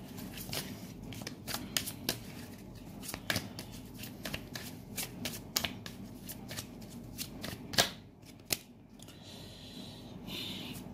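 Tarot cards shuffled by hand in a long run of crisp riffling and flicking, with sharper card snaps near the end and no voices over it.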